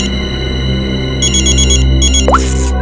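A telephone ringtone warbles in repeated electronic bursts during an ambulance call in a CID crime drama, loud over a steady musical drone, followed by a short whoosh.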